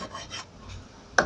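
A metal file rasps against cuticle nippers held on a nail, a few short scraping strokes, close and moderately loud, ending in one sharper, brighter stroke.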